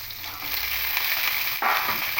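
Eggplant and yardlong beans fry in hot oil in a wok, giving a faint, steady sizzle and hiss that swells with a brief burst of stirring toward the end, without talking.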